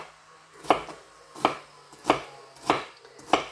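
A sharp cake knife chops food on a board in a home kitchen, striking in five evenly spaced, crisp close-up chops with quiet pauses between.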